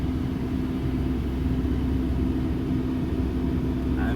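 A car interior while driving, with a steady low road-and-engine rumble and a faint constant hum running throughout, no talking.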